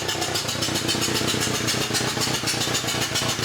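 A Toyota MR2 engine runs after maintenance and a tune-up. It idles with a rapid, steady, slightly clattery pulse that is close and fairly loud, with no voices over it.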